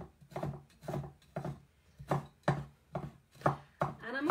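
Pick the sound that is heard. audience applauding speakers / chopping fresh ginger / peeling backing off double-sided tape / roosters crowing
chopping fresh ginger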